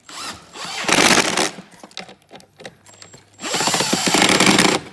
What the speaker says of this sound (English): So we're gonna do the same thing with our impact driver.